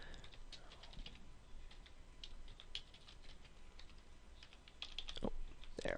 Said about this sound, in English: So I'm just going to go in here and type out some, let's say some names of some months.